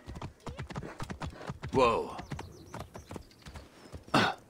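Horse hooves clip-clopping in Assassin's Creed Origins, with a brief whinny-like burst near the middle and another near the end, all under a man's ongoing speech.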